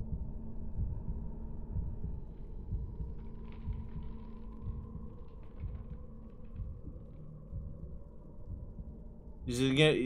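A steady low heartbeat throbs in the Bendy and the Ink Machine video game under a constant hum, with a player talking over it throughout and a sharper burst right at the end.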